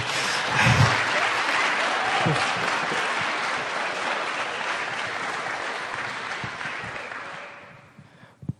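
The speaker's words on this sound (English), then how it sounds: "One more round of applause for..." Dense, sustained audience applause fills a hall at the opening ceremony of Africa Awareness Week, holding steady before gradually thinning out and fading near the end.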